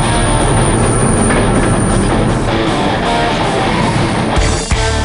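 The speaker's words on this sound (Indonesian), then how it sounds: "Melaju, kereta ini menuju pada kemenangan dan tidak bisa keluar jalur." Cartoon train rushing along rails in express mode, a dense continuous rumble and rattle of wheels with high squeal, loud and close, ending in a brief clunk.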